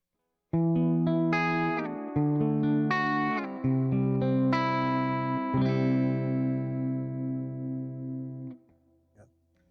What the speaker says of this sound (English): some clean tones first. I'm going to start with the bridge pickup.